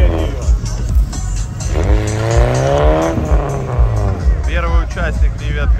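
An open Lada Niva off-road car revs and drives on a trial-type course at a trophy-sprint competition, its engine whining and rising and falling loudly up close, with people talking over it.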